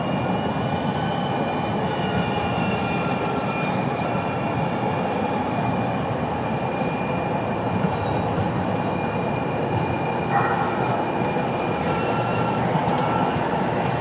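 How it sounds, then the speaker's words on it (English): A trolley train passes City College Station on Broadway on a clear Sunday morning, giving a steady, loud rumble of rolling wheels with high metallic squealing tones held throughout, and no voices. "Let's start with some trolley action, shall we?"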